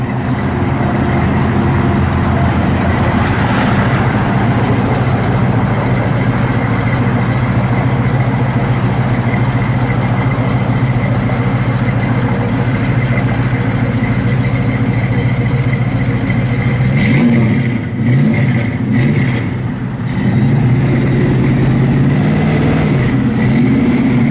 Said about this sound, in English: It's not real loud, just a nice dual flow masters out the back.